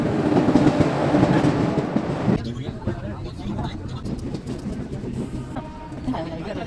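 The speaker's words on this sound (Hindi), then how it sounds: "तो ट्रेन हमारी आ गई है।" A train pulls into a station with a loud rumble and clatter of rail cars, followed by lighter clicking and station background noise.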